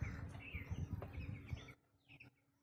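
Young chickens on a small poultry farm give faint high cheeping chirps over a low rumble, the peeping continuing more sparsely once the background quiets.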